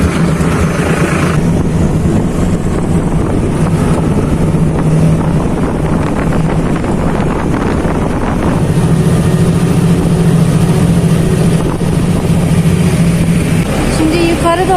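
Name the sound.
tractor engine running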